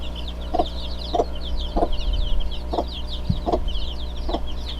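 A young rooster chick makes a run of short, evenly spaced chirping calls, about six in a row, close and fairly loud, with faint bird chatter behind it.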